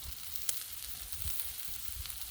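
Thick sirloin steaks sizzle on a hot griddle, a continuous hiss and crackle with a sharp pop near the start and no talk.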